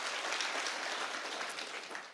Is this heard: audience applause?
yes